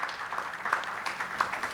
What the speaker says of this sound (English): Can we please keep clapping?